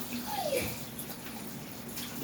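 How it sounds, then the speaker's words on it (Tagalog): Shower water runs in a steady, hissing spray at close range during a night bathroom routine, with a faint voice briefly audible underneath. "So magpapang shower pa."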